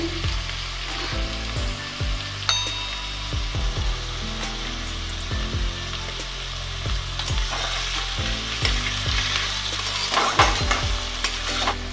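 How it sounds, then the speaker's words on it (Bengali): Chopped vegetables fry in a hot pan, a steady close sizzle broken by repeated scraping stirs of a spatula throughout, with no voices. "দিয়ে দিয়েছি আমার আগে থেকে কাটা সবজিগুলো এবার ভেজে নেব।"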